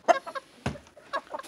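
Breeding hens clucking nearby in short, uneven bursts, a few sharp calls separated by brief pauses.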